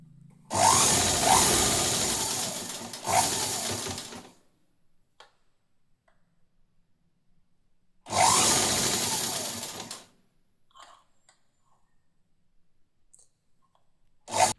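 A sewing machine stitches a hook strip onto cloth in two close, loud bursts of fast rattling stitching, the first about four seconds and the second about two, with quiet gaps and faint clicks between.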